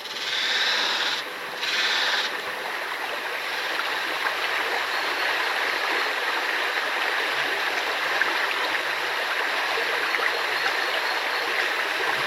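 The falls of the Durolle river, which drive mill water wheels, pour in a steady broadband rush of water that holds evenly throughout at moderate level, with a brief dip near the start.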